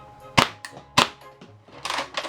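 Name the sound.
Nerf Elite 2.0 Flipshots Flip-32 blaster firing darts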